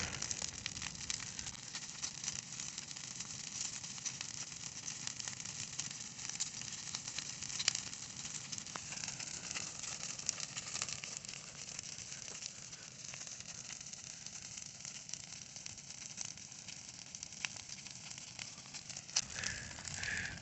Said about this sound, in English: This is going to be the biggest bonfire I've ever had in my life.